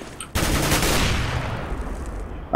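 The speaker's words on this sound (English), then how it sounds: "I was just shooting" Counter-Strike: Global Offensive gunfire: a sudden loud burst of shots, close, that rings out and fades over a couple of seconds.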